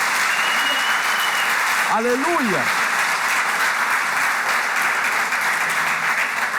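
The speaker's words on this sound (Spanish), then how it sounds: "Denle un fuerte aplauso al Señor" Loud, dense applause from a church congregation runs throughout, with a single voice calling out briefly over the clapping partway through.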